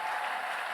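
A church congregation applauding the Lord during a French-language service, a dense, even wash of clapping heard for under a second.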